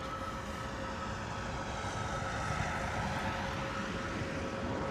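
A Buzz Air aircraft accelerates along the runway during a check, heard from a distance as a broad steady engine roar with a faint sustained whine, continuous and unchanging throughout.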